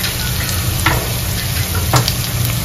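Asafoetida dropped into hot oil, a loud, close, continuous sizzle with a few brief stirring scrapes through it and no voices.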